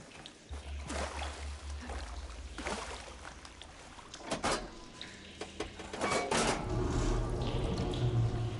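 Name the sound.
water flowing through pipes in Horizon Forbidden West video game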